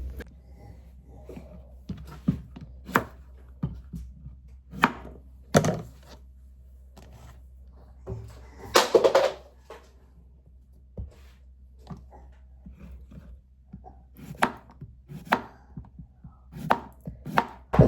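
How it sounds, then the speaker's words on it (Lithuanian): A knife slices zucchini into rounds on a board in a quiet kitchen, with irregular crisp chops, some spaced and some in quick runs, and a louder clattering burst midway. "Tada cukiniją riežinėlius pjaustom."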